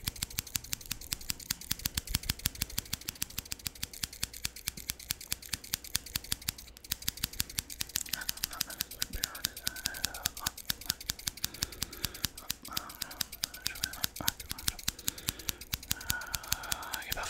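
Metal scissors snip over and over in a fast, steady rhythm close by, the blades clicking sharply as they are moved about, with a faint murmur of speech partway through.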